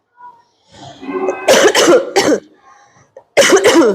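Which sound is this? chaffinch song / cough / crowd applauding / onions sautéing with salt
cough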